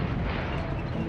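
A 47/32 anti-tank cannon firing in a WWII El Alamein desert battle: a dense, loud, rumbling blast that fills the moment with no break, heavy and close, with no talking.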